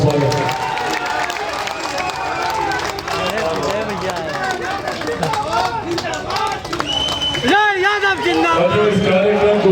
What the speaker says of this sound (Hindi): आप लोग जोरदार ताली से इनका स्वागत है।